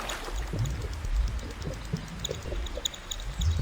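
In a cartoon, water sloshes and gurgles as a lion dips its horns in, giving short bubbling pours and splashes at close range with no talking.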